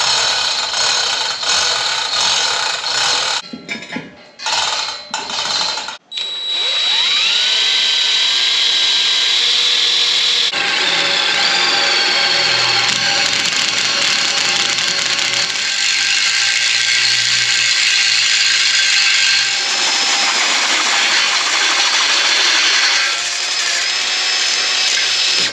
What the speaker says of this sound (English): I'm gonna try to lay this down on the stand so when I'm pushing on it with the drill, I've got something solid to push against.